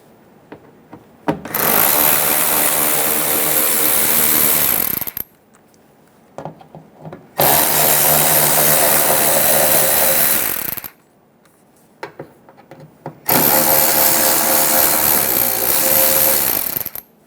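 A power driver with a T15 bit backs out three fender liner screws on a 2014-2018 Chevrolet Silverado 1500. Three loud, close bursts of whirring run a few seconds each, with quiet gaps and small clicks between them.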